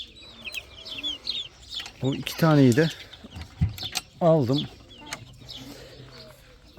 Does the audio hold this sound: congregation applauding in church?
no